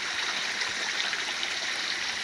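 Koi pond at night in Canada, its water steadily churned by spinning balls as big koi swim fast, giving a constant close rushing, splashing wash with no talk.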